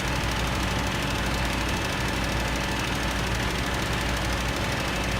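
A tractor engine in Farming Simulator 2013 runs steadily throughout, a continuous loud mid-low drone with a knocking, idling character and no talk over it.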